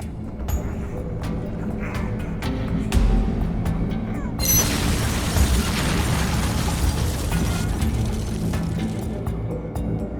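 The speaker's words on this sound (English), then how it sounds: "You want to make that building go boom, yes?" A bomb blows up a building in the Van Helsing video game, a rolling explosion with bursts, pops and crashing debris over several seconds, loud and continuous, with a game soundtrack and scattered effects underneath.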